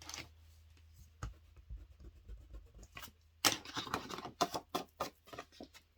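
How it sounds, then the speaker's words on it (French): Pen scratching figures onto paper while an album page is measured, soft scribbly strokes with brief taps, quiet at first and then denser, busier writing in the second half, no talking. "je vais le réécrire dessous parce que sinon, on peut se tromper"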